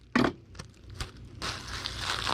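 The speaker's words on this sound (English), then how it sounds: "if I tape it up like that" Packing tape is pulled off the roll and pressed onto a cardboard box: a brief crinkle and a few taps, then a sustained, loud ripping and sticking sound up close.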